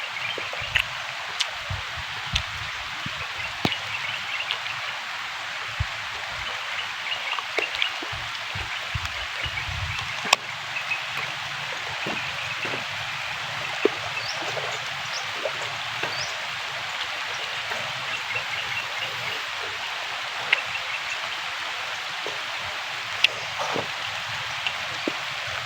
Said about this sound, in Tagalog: Grabe talaga yung ulan dito guys